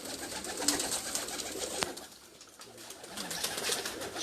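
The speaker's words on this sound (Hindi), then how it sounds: "ये कबूतर जो थे ना जी, मुनफरिद कबूतर है" Pigeons coo in a rooftop loft at Ras Al Khaimah, UAE, a steady rolling murmur of many birds close by with a bright hiss and a sharp click partway through, and no voices.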